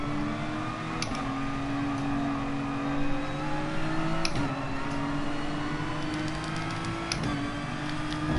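Race car in GT Sport accelerating hard through the gears, a steady loud engine drone rising in pitch with sharp shift breaks about every three seconds, continuous and close with no voices.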